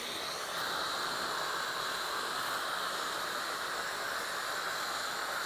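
A Dupray Neat portable steam cleaner blasts steam onto concrete, producing a steady, loud, broadband hiss that runs unbroken from start to finish with no talk.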